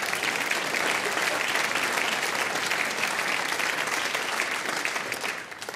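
Steady, dense applause from a comedy show audience in a hall, sustained and even for several seconds before tapering slightly at the end.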